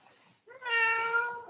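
A single cat meows once on a farm, a fairly quiet, close, drawn-out call rising then fading after a brief near-silent pause.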